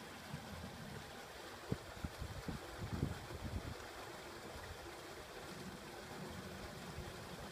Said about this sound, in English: you can probably hear the water draining down through the pipe